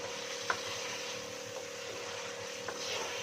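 Onions and chicken frying in a karahi for a white chicken karahi, giving a steady sizzle with a few sharp stirring clicks, close and alone.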